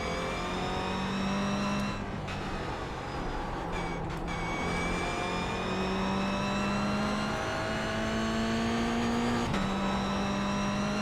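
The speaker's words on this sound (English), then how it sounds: "This is a blast of a car to drive, though." A Mazda MX-5 race car at speed on the Oulton Park circuit, its engine revving hard and climbing in pitch through several quick gear changes, loud and continuous from onboard.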